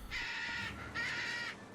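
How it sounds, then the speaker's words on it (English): Crows in Tales of Berseria let out two harsh, drawn-out caws, each lasting about half a second, close and clear against a quiet background. "Leave me alone, birds."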